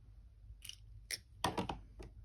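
Snips of wire cutters trimming a leftover wire end from a wire-wrapped spiral link, a few quick, crisp clicks close up and quiet, with no talk.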